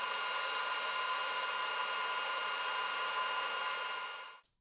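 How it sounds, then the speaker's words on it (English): A bandsaw cutting timber frame parts for an awning gives a steady, close hiss and whir that holds evenly for several seconds, then spins down and cuts off abruptly. "Then it was back over to the bandsaw to cut all the parts out."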